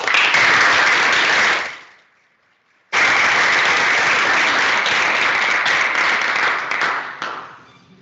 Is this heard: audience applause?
yes